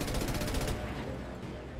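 Rapid automatic gunfire in Mass Effect Legendary Edition, a dense burst of repeated shots for most of the stretch, loud and close, tapering into a steady noisy wash with no talking.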